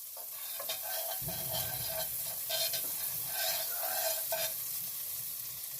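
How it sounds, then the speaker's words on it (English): Butter sizzles in a pan on the stove, a constant close hiss broken by soft scraping strokes and a low rumble from about a second in, with no one speaking. "So I'm going to get some butter going in that pan"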